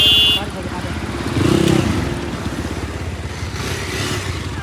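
A motorcycle engine runs at a steady, close, rumbling idle throughout, with a brief louder rise partway through.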